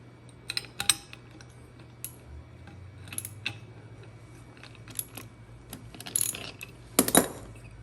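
A ratchet with a 7/8 socket loosens the nut on a ceiling fan during teardown, giving scattered irregular clicks and ticks over a low steady hum, close and fairly quiet.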